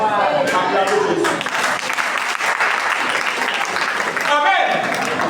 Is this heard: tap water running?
no